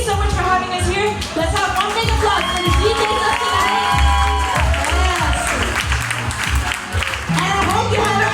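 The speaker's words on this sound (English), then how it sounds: "Let's have one big applause for the DJs of tonight." Crowd at a bachata weekend event in Bratislava applauding and cheering for the night's DJs, with loud sustained clapping, shouts and whoops over music.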